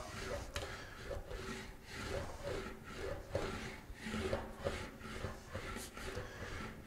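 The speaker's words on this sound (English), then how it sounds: "it's really relaxing in the English wheel. Nice and quiet." An English wheel rolls back and forth over a metal panel, smoothing a reverse curve in a quiet, soft rhythmic swish of repeated passes at low volume, with no talking.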